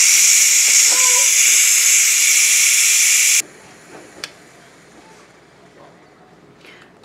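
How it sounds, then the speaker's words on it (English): Pressure is released through the valve of a Ninja Foodi pressure cooker, a loud steady hiss of steam that stops abruptly partway through, leaving quiet kitchen background with a faint click. "So now we are going to go ahead and we're going to switch our valve here to vent."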